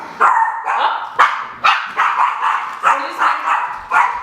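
A dog barks repeatedly at a visitor arriving, about eight sharp, loud, close barks in a steady rhythm, with some yips mixed in.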